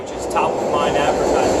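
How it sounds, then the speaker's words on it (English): A train runs past outside, a steady broad rumble and hiss that holds at an even level throughout, with someone talking over it. "that's a train running by right now."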